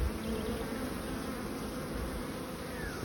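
Honeybees swarm around a hive entrance in an apiary during feeding and winter preparation, their dense, continuous buzzing close and steady with no voices.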